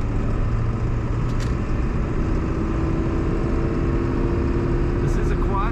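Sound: diesel truck engine running

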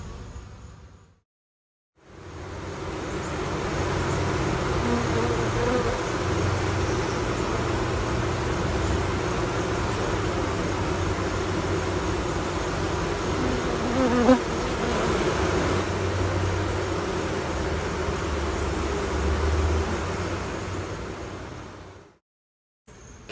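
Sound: honeybee colony buzzing

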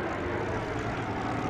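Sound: Percival Jet Provost jet aircraft flying at vintage airshow

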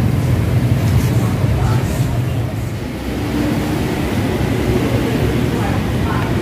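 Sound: mini espresso machine brewing espresso

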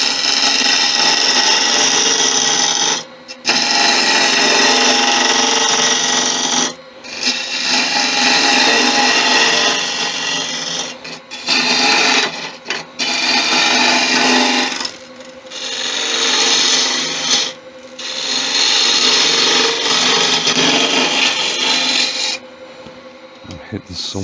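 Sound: wood lathe turning a Balinese teak chalice

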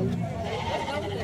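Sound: young goat bleating at an animal fair

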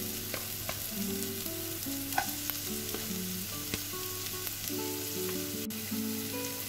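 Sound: sautéing ginger, garlic, shallots and chillies in a pan

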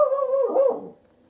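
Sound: dog barking

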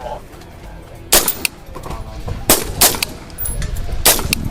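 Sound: gunshots from a SIG Sauer MCX LT rifle

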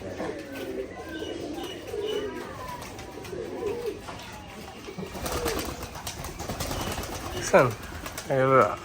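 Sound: pigeons cooing

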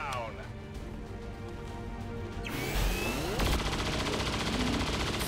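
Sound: saturation gunfire in video game XCOM 2

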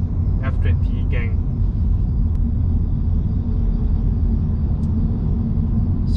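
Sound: Giti GitiSport S2 tires road noise on tar road

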